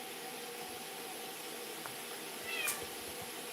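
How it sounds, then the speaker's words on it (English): A cat gives a brief meow near the end of a quiet, hissy indoor stretch, faint against steady background noise. "You hear that cat yelling?"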